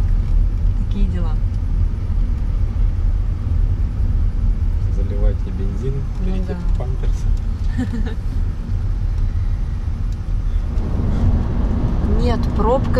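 Cars sit idling in a long summer traffic jam on the highway to the Crimea coast, a steady low engine rumble throughout with people speaking over it.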